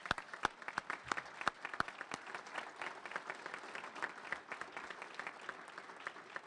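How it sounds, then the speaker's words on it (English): Audience at a Drake men's basketball introductory press conference giving a round of applause, a moderate crowd of individual claps with sharp distinct hand strikes rising into a sustained patter, quiet and without speech. "why don't you stand up so everybody can give you a round of applause too."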